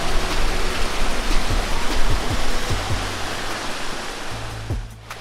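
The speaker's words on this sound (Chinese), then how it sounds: "很漂亮、很漂亮的瀑布" Steady, dense rushing water of Horseshoe Falls in Rocky Mountain National Park roars continuously at close range, a broad wash of noise with no voices.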